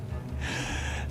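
A person takes a single deep inhale through the mouth, a short airy gasp that swells over about a second, close and clear with no talking.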